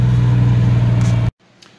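Turbocharged 4.3-litre Chevrolet S10 pickup pulls hard up a hill, a loud steady engine drone with a strong low hum that cuts off abruptly near the end, leaving near silence.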